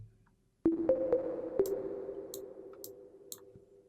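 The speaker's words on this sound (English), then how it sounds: "in Massive, I'm going to add more of this reverb." Synth sound patch in Massive with reverb added: a sudden tonal hit followed by several pinging, clicking notes that ring out into a long, fading reverberant tail, heard alone.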